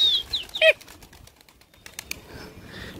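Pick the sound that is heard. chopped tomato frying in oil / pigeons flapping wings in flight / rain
pigeons flapping wings in flight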